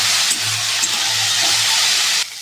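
Sliced bitter gourd and potato sizzle in hot oil with dried red chillies and five-spice, a loud, steady hiss close by that cuts off abruptly at the end.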